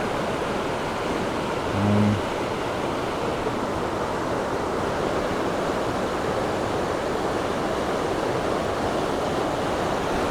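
Creek stream flowing steadily near a trailhead on a rainy hike, a constant broadband rush of water, close and continuous, with a brief faint tonal blip early on and no talking.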